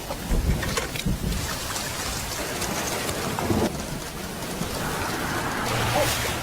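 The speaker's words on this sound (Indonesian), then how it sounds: "dilengkapi dengan turunnya hujan yang membuat mereka harus bergegas mencari tempat" Steady rain pours down outdoors, a dense, even hiss of drops on surfaces with a few heavier splashes and a low rumble, continuing loud throughout with no voices.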